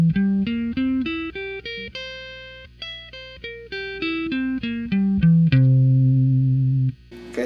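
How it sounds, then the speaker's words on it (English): A guitar plays a dominant seventh arpeggio through an effects unit with a distorted, chorus-tinged tone. Quick separate notes step up and down in a steady rhythm, then a final note rings out and sustains alone. "so playing this dominant seventh arpeggio would sound like this."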